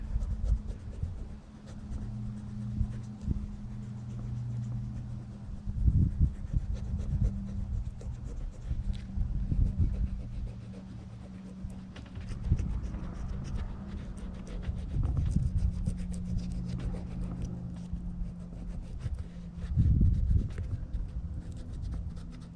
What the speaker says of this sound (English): You're just roughing it up, hoping it adhere.